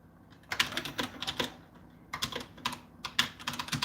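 Bursts of computer keyboard typing come in quick clustered runs with short pauses, close and clear, during a Christmas live stream, with no talking over the keystrokes.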